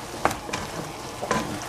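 Egg and tomato frying in a pan, a steady close sizzle broken by a few short scraping stir strokes.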